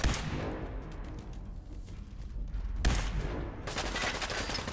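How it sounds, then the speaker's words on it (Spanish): Rapid bursts of gunfire in the video game Fallout 4 crackle in dense volleys, pausing briefly before another loud barrage begins, with no talking. "Encima estamos fallando todos los disparos"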